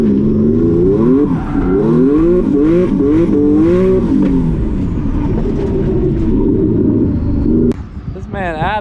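An 800-wheel-horsepower Nissan 370Z engine revs hard and loud in repeated rising and falling sweeps before a burnout, then settles to a rough idle, followed by a brief higher whine near the end.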